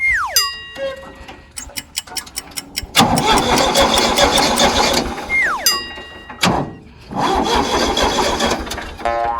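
A diesel tractor engine cranks and catches in bursts, with rapid starter clatter, loud rough roaring stretches and brief pauses between attempts, close by and with no talk over it.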